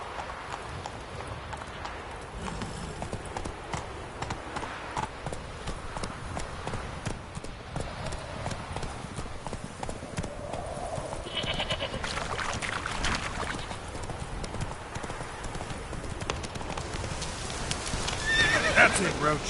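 Roach, Geralt's horse in The Witcher 3, gallops with steady rapid hoofbeats, accompanied by snorts and whinnies, a sustained rhythmic clatter that grows slightly louder toward the end.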